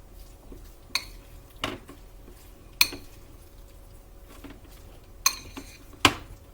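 Baked oatmeal ingredients being mixed in a bowl with a utensil, a handful of sharp, separate clinks and knocks spaced irregularly over quiet background, no voices.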